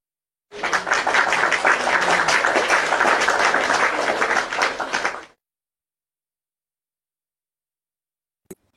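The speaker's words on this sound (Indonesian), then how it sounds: "Tepuk tangan, Nor." Applause from an audience breaks out suddenly and holds steady for about five seconds of dense, bright clapping, then cuts off into silence, followed by a single faint click.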